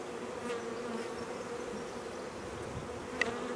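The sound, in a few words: honey bees buzzing around marked queen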